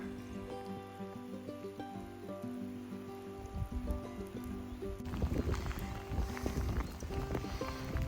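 Steady rain patters on rock and ground at the top of Jane's Bald, a mountain summit, with a musical drone through the first five seconds before the rainfall grows denser and louder.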